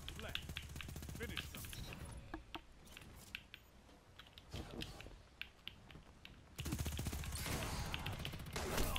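Sharp, punchy shotgun blasts from a Titan in Destiny 2 competitive play crack out several times at irregular intervals, close and loud, with people talking over the gunfire.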